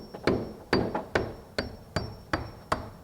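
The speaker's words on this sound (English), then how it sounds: "we're both gonna pop a nail in there" Nails are hammered into stucco styrofoam trim molding with about seven sharp, evenly spaced blows in quick succession, close and crisp, with no talk over them.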